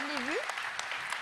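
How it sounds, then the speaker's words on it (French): Scattered clapping from an audience at a general assembly breaks out with a bright whistle or cheer over it, brief and lively. "On peut encore à nouveau l'applaudir parce que Gilles Moreton l'a appelé"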